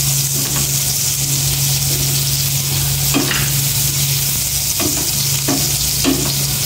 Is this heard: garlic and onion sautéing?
yes